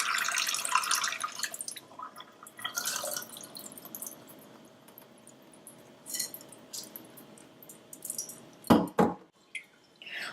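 Sushi rice is washed by hand in cold water in a bowl, giving soft sloshing and trickling, then a few sharp splashes and pours near the end.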